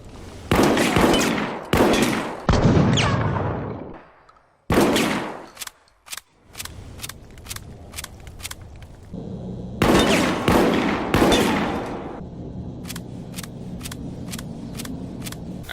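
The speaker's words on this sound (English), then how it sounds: "let's test the Riot gun out" Blasts from the Riot gun shotgun in Resident Evil: Operation Raccoon City, fired in loud, close, rapid bursts of several shots, with pauses and quieter mechanical clicks between volleys.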